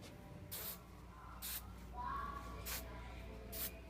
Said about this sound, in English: you can go in and spray any wispies that you need to.